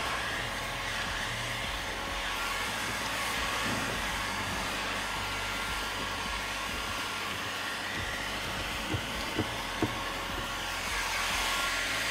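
A heat gun blows a steady, loud hiss of hot air onto MAX PRO window tint film on a car side window, with a few faint handling knocks near the end.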